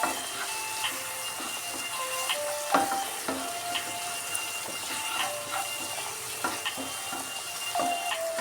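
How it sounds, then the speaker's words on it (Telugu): Ginger frying in oil in a pan while being stirred, a steady close sizzle broken by repeated scraping and clinking strokes of a spoon against the pan. "అల్లం బాగా వేగాలి మంచి స్మెల్ వచ్చేటట్టుగా మంచిగా కలుపుకోవాలి"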